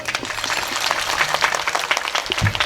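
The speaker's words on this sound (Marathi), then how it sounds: "आई जोरदार टाळी" Audience applause at a comedy kirtan performance by Rupalitai Savane, a steady wash of many hands clapping throughout, moderately loud with crowd noise.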